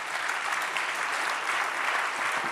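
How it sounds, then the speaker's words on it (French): Audience at a forum on innovative solutions applauds four presenters, a dense, steady wash of clapping from a large crowd that holds at an even level throughout. "restez pas trop loin parce qu'on peut les applaudir"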